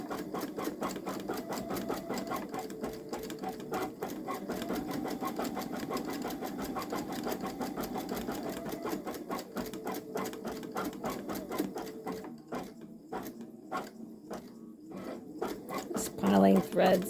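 A Babylock Solaris Vision embroidery machine runs a long-stitch design over a small quilt, its needle hammering in a fast steady rhythm with short pauses and speed changes, close and moderately loud.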